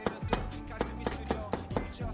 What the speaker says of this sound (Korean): 죽순 이런 식으로 편 쓸어서 하나하나씩 뉘어가지고